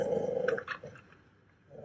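A dog growls in a low, rumbling stretch at the start, followed by a few short yelping or squeaky sounds, then a brief return of growling at the end.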